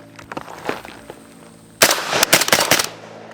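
A suppressed Rifle Dynamics AK-pattern rifle chambered in 5.56 fires a quick string of muted shots, a few soft reports early on, then a louder burst of several rapid cracks before fading.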